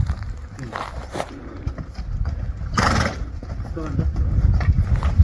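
Horses at a village neighing loudly while hooves clip-clop on the ground nearby, with people talking over the animals.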